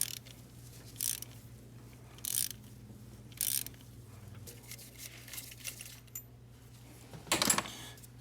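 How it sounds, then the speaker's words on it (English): A ratchet loosening the injector retaining bolt on a Mercedes Sprinter with a misfire, in short bursts of quick clicking separated by pauses and faint metallic handling, close and fairly quiet. "we're gonna undo this injector retaining bolt over here, this torque bolt"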